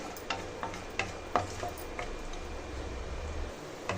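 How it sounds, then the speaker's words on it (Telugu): Dry fruits fry in hot ghee in a pan for bread halwa, with a soft steady sizzle under occasional light clicks and taps of a stirring spoon, close and fairly quiet. "ఈ డ్రై ఫ్రూట్స్ని గోల్డెన్ కలర్ వచ్చేంత వరకు ఫ్రై చేసుకోవాలి"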